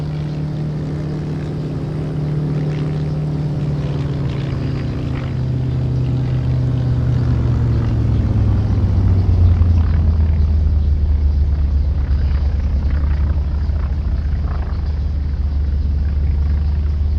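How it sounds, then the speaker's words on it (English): A Hughes H-1B propeller aircraft engine at full power drones steadily and loud in a flight simulator, its pitch dropping as it sweeps past in a continuous flyby roar. "I'm running full power for this flyby."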